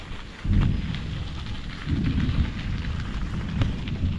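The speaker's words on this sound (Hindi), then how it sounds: "और बादल का आवाज़ आप सुन पा रहे होंगे गरजने का" Steady rain patters throughout while deep rumbles of thunder roll in twice, low and heavy, with no one speaking, in a Sri Lankan village.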